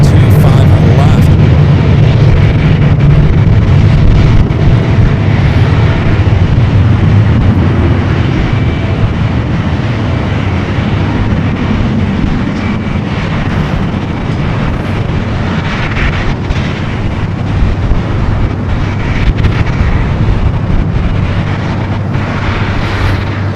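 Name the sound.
Virgin Atlantic Airbus A350-1000 jet touching down at LAX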